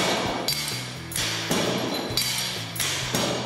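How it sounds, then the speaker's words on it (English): Repeated heavy blows of a hammer dropping freely onto crushed stone aggregate in a steel cup of an aggregate impact value tester, each sharp impact followed by a ringing metallic tail, coming about every half second to a second, loud and close. "Allow the hammer to fall freely 15 times onto the aggregate"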